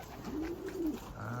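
A racing pigeon coos softly once or twice, a low rolling call close by against a quiet background; the birds had recently recovered from a respiratory problem and returned from a 15-mile warm-up toss.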